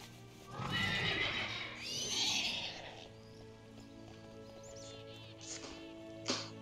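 A celestial steed mount in World of Warcraft lets out a loud whinnying neigh near the start, followed by softer game ambience and faint clip-clop hoofbeats, with a brief chime near the end.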